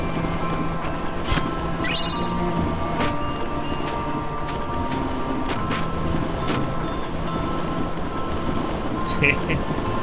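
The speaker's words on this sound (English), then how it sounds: "I'm gonna ride the tram with a skateboard." Tram ride in Kingdom Hearts 2, a steady rolling rumble with faint clanks and a few brief chimes and squeals, continuous and fairly loud throughout with game music mixed in.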